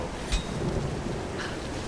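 Video game rain and thunder from Tomb Raider: steady rain hisses over a low rumble of thunder, with a soft crack early on; a continuous stormy wash with no voices.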